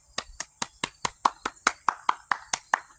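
Single hands clap in a close, steady rhythm, about a dozen sharp claps evenly spaced with quiet between them.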